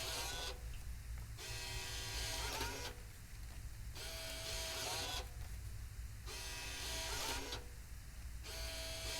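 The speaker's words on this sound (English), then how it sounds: "a receipt of his recent deposit has been printed for his records" A VersaSafe deposit machine printing a receipt, a quiet rhythmic mechanical whirring that repeats in regular pulses with short pauses between them.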